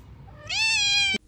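A cat lets out a single clear, drawn-out meow, close and moderately loud, rising in pitch and then cutting off sharply against a quiet room.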